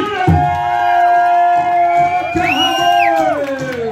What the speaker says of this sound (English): bring them over and a round of applause